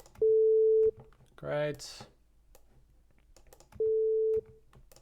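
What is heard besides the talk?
sine wave test tone through speakers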